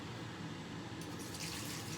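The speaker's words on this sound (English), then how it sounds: "just a little splash of water" A small splash of water hits a pan of simmering peas with mint and butter, giving a steady close hiss and bubbling that brightens slightly partway through.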